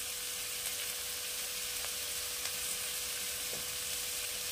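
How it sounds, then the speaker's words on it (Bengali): Onions lightly frying in a pan for dhaba-style Rajasthani chana dal: a steady, fairly quiet hiss of oil with a few faint clicks, no voices. "পেঁয়াজকে আমি বেশি ভাজবো না, একদম অল্প ভাজবো।"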